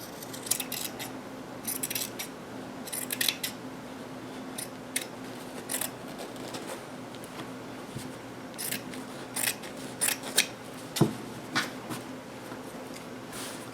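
Scissors cut apart a shirt for a memory quilt, giving a series of quiet, crisp snips at an uneven pace, close to the mic and with no talking.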